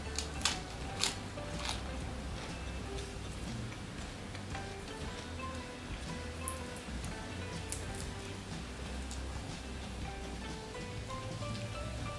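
Steady soft patter of rain falling all around an apartment building, with faint scattered ticks and drips over a low constant background.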